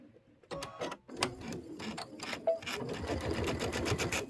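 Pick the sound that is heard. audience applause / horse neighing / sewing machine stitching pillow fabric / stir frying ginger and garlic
sewing machine stitching pillow fabric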